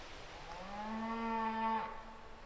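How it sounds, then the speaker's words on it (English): A single drawn-out cow moo from cattle in a mountain pasture in autumn, rising and holding for about a second before breaking off, clear and fairly close over a quiet outdoor background. "It's time for the cattle to return to the valley."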